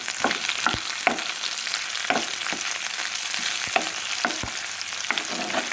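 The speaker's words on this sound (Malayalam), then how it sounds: "പച്ചമുളകും ചേർത്ത് നന്നായിട്ടൊന്ന് വഴറ്റണം." Green chillies sautéing in a pan for ambazhanga pickle give a steady, close sizzle, broken by repeated sharp clicks and scrapes of a spoon stirring against the pan.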